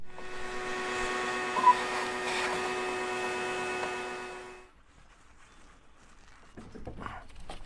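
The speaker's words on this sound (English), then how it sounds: "Get a vacuum out, clean that out." Vacuum cleaner cleaning the battery tray of a 2018 Chevy Silverado 1500, a steady tonal motor whine running for several seconds before it switches off, leaving quiet shuffling handling noises.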